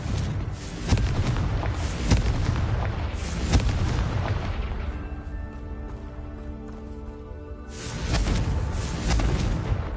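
Confringo fire spells burst repeatedly in Hogwarts Legacy: loud, close booming explosions in quick succession, a ringing lull with a tonal hum, then another barrage.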